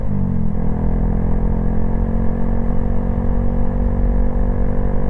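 A motorcycle engine runs steadily nearby while being ridden, a loud, even, throbbing rumble with a slight pitch shift near the start.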